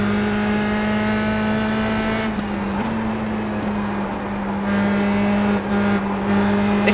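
A Formula Sprint race car engine in iRacing drones at steady high revs, loud and close, holding one sustained pitch with brief dips as the car works through the track.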